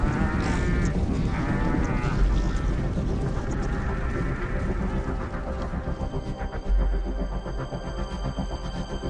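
Cattle being herded toward a final weighing station before slaughter fill the air with a dense, continuous din of animal calls and bleating-like cries, steady and loud throughout with a mechanical hum underneath.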